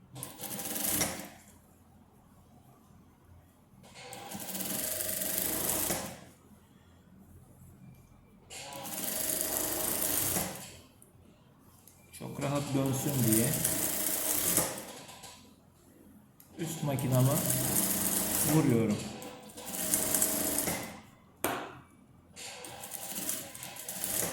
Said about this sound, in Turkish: Pervazın üstünden çekiyorum makinayı.